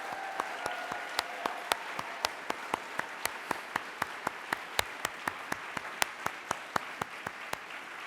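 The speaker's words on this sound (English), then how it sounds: "let's give Ann Fitzmaurice Adams one more round of applause." Applause for an honoree at a university advancement staff meeting: sparse, evenly spaced sharp claps, fairly faint and steady, heard alone without talk.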